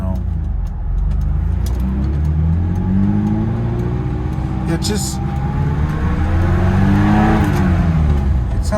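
A 1974 BMW E9 with problems being diagnosed revs its engine, a loud, rough roar that climbs and falls in pitch, heard close by with brief speech over it.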